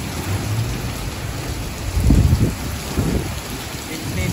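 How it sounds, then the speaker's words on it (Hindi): Very heavy rain pours down in a violent storm, a loud steady hiss with a deep rumble of thunder swelling around the middle, no voices over it. "सफ़र की तारीख में पहली बार मैंने इतनी तेज़ और भयंकर बारिश देखी है"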